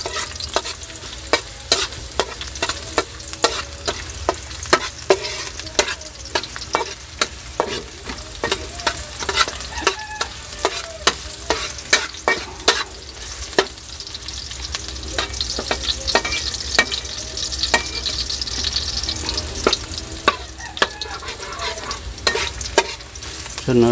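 Chopped garlic sizzling in hot oil in a pan while a utensil scrapes and stirs it in steady, frequent strokes, close and continuous with no talk.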